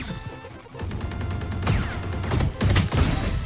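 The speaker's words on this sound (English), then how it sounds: "Flashbang." A flashbang grenade bursting during a tactical shooter match, a sharp crash followed by dense overlapping gunfire and game effects, loud and continuous across the moment.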